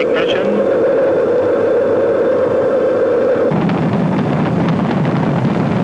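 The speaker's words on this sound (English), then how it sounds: "We have main engine ignition." The Space Shuttle Challenger's main engines ignite on the launch pad before its sixth shuttle flight. A loud, steady broadband roar fills the sound, shifting in tone partway through, while a commentator speaks over it.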